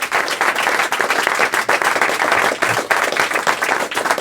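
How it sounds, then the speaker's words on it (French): A live audience claps loudly and continuously, a dense, close wash of applause with dips and surges over several seconds and no talk. "vous allez l'applaudir très fort"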